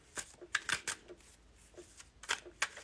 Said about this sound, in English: I'm trying to shuffle them and they're like going all wonky.